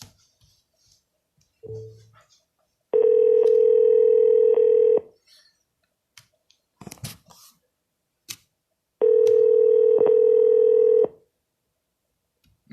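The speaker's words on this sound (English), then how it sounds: "I'm even going to call her right back to see if she answers this time." An outgoing phone call to a San Diego real estate lead rings back twice: two long, steady, loud tones about two seconds each, separated by quiet gaps with faint clicks and handling noises.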